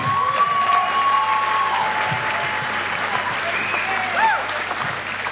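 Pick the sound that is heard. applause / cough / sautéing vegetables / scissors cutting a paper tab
applause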